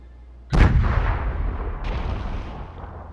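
One heavy cannon shot from the sailing game Sail booms out sharply and trails into a long rumbling decay, loud and close with no voices, a fainter crackle joining partway through the tail.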